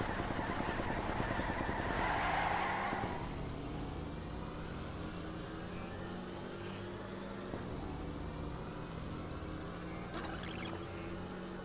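A Nissan 350Z engine in the video game LittleBigPlanet 3 revs hard toward redline and then accelerates away, a loud, steady synthetic engine drone with rising harmonics, with no talk over it.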